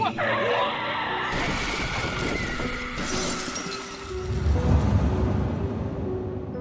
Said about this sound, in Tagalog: sila ay masakasaan ng rumaragasang sasakyan